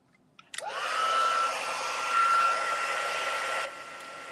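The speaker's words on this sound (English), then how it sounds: "Let's heat set this." A handheld heat tool blows steadily for about three seconds while heat setting a craft project, a smooth whooshing hum that starts abruptly and cuts off cleanly in a quiet room.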